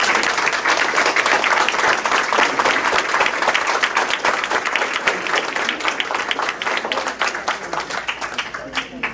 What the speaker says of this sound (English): we want to applaud for our candidates